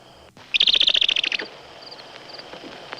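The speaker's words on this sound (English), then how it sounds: "Bird give warning. Danger." A bird gives a rapid, loud trilling chatter of about a dozen evenly spaced notes, then falls quiet, leaving a few faint chirps in the background.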